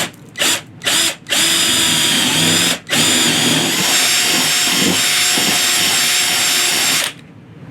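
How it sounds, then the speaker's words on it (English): A power drill with a 1/2-inch bit bores through wood on a tabletop, starting with a few short bursts before a long continuous whirring run that stops abruptly, close and loud. "I'm going to drill a hole through the road and through the table"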